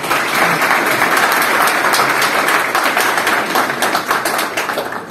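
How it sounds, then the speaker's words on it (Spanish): Audience at a lecture by Olympic gold medallist Pedro García Aguado applauds steadily, a dense, sustained wash of many hands clapping close and loud, easing slightly toward the end. "Aquí se aplaude, normalmente se aplaude."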